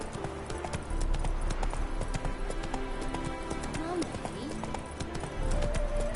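Roach the horse in The Witcher 3: Wild Hunt trots along with a steady, close clip-clop of hooves, rhythmic throughout, under background music and narration.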